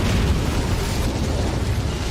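Incendio fire spell cast in Hogwarts Legacy, a dense roaring burst of flame that stays loud and steady throughout with no pauses.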